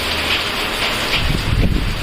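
Steady, loud hiss of rain falling, continuous and close, with a low rumble building toward the end.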